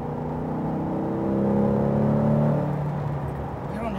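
A Chevrolet Corvette C8 engine accelerating on a race track, its rising whine climbing through the gears and swelling in the middle, then easing off as a shift comes near the end.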